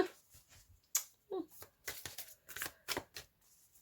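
Tarot advice cards are shuffled by hand in a quiet room, a series of short papery riffles and slaps in an irregular rhythm, close and fairly soft, with a voice speaking between some of the shuffles.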